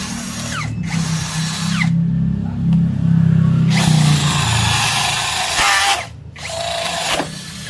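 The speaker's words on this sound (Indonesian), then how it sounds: "Wah, ini bor tidak mendidik ini." A power drill whirs loudly in several bursts, revving up and cutting out with short pauses between runs, close by; the drill struggles to turn on its low speed setting.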